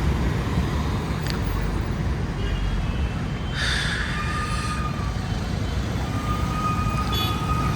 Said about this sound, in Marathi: तर हा आहे सासवडचा मेन रोड.